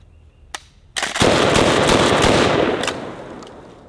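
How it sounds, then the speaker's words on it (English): A pump-action trench shotgun slam-fires in a rapid burst, a dense volley of loud, close blasts running together for about two seconds after a single lead shot, then tailing off into echo. "I'm just gonna hold the trigger down and try to pump this thing as fast as I can."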